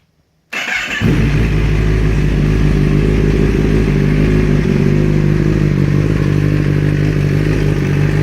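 Flashed 2012 Kawasaki ZX10R motorcycle engine cranks after a brief silence, catches and settles into a steady, loud, close idle that continues to the end with no talking.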